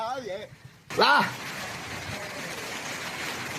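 Hail pounds down during a severe storm in Guangdong, China, a dense, loud, continuous roar that starts abruptly after a brief voice and carries on steadily.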